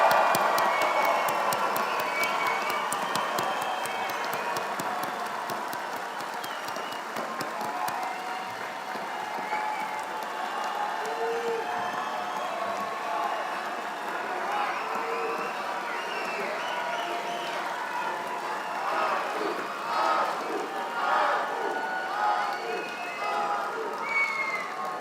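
Graduation ceremony audience for a law school class claps and cheers in a long, steady wash of applause, with scattered shouts and voices rising through it toward the end.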